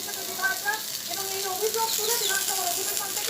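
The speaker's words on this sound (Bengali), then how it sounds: "ভেন্ডিগুলো একটু ভাজা হোক।" Okra sizzles steadily in a hot pan, a soft continuous frying hiss with faint crackles, close and moderately quiet, with no voices over it.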